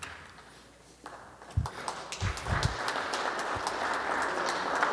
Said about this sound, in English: If you want to clap more, that's okay.